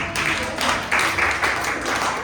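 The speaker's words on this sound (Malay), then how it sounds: "tepuk tangan untuk Nurin" Classroom audience clapping for a student after a microteaching session, a steady patter of hands lasting a couple of seconds, moderately loud with no voices.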